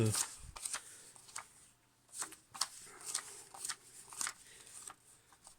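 Game cards for the Last Fantasy War card game being handled and shuffled through in a search, giving soft repeated riffles and flicks of card stock at close range, with occasional low background sound.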